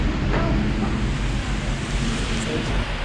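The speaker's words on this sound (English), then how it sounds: "Dude, it's pouring rain out here." Heavy rain pours outdoors in Hongdae, Seoul, a dense steady hiss with wind rumble close to the microphone, with no clear voices.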